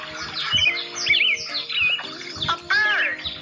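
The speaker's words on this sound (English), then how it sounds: "A bird." Short, high bird chirps and tweets recur in quick bursts against a steady tonal background, bright and moderately loud, with no talking.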